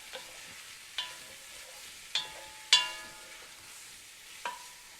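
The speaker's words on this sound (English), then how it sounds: "So we want to constantly stir." A pasta blend being stirred constantly in a pan, with a quiet background sizzle broken by five distinct metallic clinks and scrapes of the utensil against the pan, spaced about a second apart.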